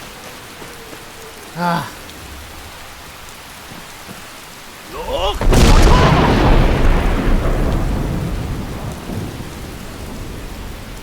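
Heavy rain hisses steadily while a deep thunder crack bursts in and rumbles away in a Skyrim storm, and a man gives a short exclamation beforehand.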